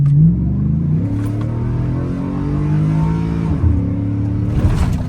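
Loud, lumpy engine rumble from inside a cammed Chevrolet Silverado pickup as it accelerates, the choppy idle-like lope rising and falling in pitch through the gears.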